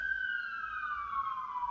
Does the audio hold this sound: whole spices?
no